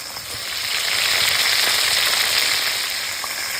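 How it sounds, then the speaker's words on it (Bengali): Golda prawns frying in oil, a close, steady hiss and fine crackle that rises slightly in the middle, with no talking. "ভাঙার কোনো ভয় নেই একটু লাল লাল করে ভেজে নেব"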